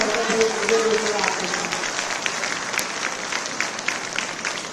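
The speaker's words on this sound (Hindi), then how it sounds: "तो जोर से ताली बजाओ" Loud crowd applause fills a public event in Jaipur where a women's reservation announcement is being made, a steady wash of clapping with a few voices mixed in beneath it.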